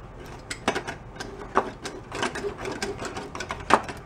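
A worn-out Honda Trail 70 motorcycle engine runs up close as the throttle is twisted, giving a rapid, uneven mechanical clatter with repeated louder bursts and no talking.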